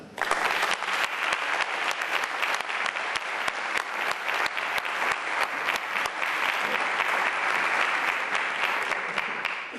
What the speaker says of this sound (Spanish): Un saludo y un aplauso para Luis Antón González.